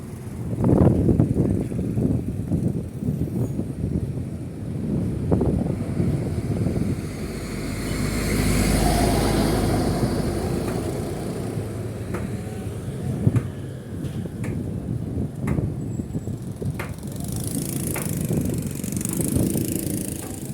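Motor tricycle engine heard while riding through a Philippine town, a rough continuous drone that rises and falls with throttle, with rattles and passing traffic noise, fairly loud and close.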